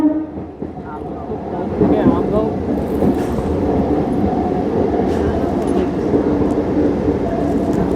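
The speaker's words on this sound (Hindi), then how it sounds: "प्यारा सा क्रॉसिंग हुआ है इंटरसिटी सुपरफास्ट एक्सप्रेस के साथ" Intercity Superfast Express train passing between Gondia and Durg, a loud, sustained rumble of rolling wagons and wheels with rattling texture, close by and continuous throughout.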